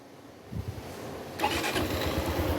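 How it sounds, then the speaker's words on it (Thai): A 2023 Honda Super Cub motorcycle engine cranks and starts partway through, then settles into a steady idle, close and fairly loud with no talk. "อ่าสตาร์ทได้เหมือนเดิมนะครับ"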